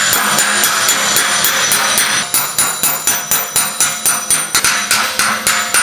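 A metal hammer strikes the low spots of a widened steel VW Beetle fender in quick, evenly spaced ringing blows, loud and close, one steady run of hits with no pauses.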